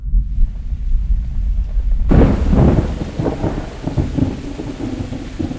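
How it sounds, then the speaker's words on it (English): Thunder cracks and rolls loudly over steady, heavy rain at an outdoor mountain bike race, the downpour hissing throughout and the thunder swelling abruptly partway through, with no speech. "unfortunately, Ghosty Ben is scared of the rain"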